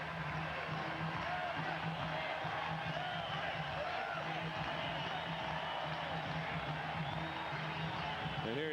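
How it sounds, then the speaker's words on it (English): Red Sox fans at a 2000 home game against the Athletics stay on their feet cheering for Everett. A broad, steady crowd roar with scattered whoops and shouts carries on for several seconds at a moderate distance. "They're still on their feet cheering for Everett"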